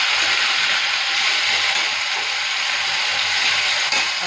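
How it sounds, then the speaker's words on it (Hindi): Tomatoes and green chillies fry in hot oil with a spice tempering of asafoetida, giving a loud, continuous, close sizzle with faint stirring and no voices. "अब हम इसमें डाल देंगे अपने ये टमाटर और ये हरी मिर्च"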